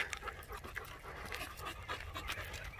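A pack of dogs out on a leashed hike panting close by, quick rhythmic breathy huffs that overlap continuously and come through fairly quietly, with no one speaking.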